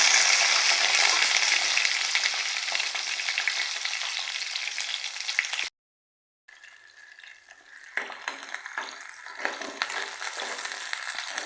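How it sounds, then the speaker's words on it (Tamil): Ginger, garlic and onion sauté in oil for a coriander chutney, crackling in a loud, close sizzle with stirring scrapes. A brief silence follows, then a quieter, uneven fry resumes. "எண்ணெயில் போட்டு நல்லா வதக்கிக்கிடலாம்"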